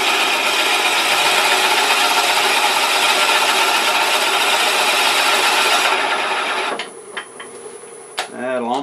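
A drill bit boring into wood held on a lathe while turning a salt and pepper shaker, giving a steady loud rasping grind that fades out near the end.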